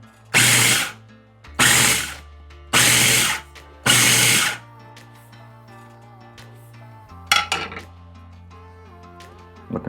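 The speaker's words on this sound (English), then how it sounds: "now we're gonna pulse this a few more times." A food processor pulses breadcrumbs, nutritional yeast, shallot and garlic in four loud, evenly spaced whirring bursts, followed by quieter clinks and one shorter final buzz.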